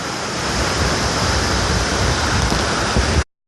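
Kambas Ulak Lebar waterfall in Ulu Ogan, South Sumatra, with a swift river current, roaring as a loud, steady broadband rush of water that cuts off abruptly at the end.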